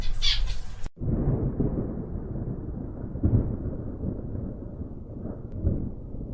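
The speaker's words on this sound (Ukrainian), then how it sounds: "На щастя, це всього лиш червневий грім." June thunder rolls as a deep, sustained rumble that swells and fades over several seconds after an abrupt cut from a brighter noisy opening.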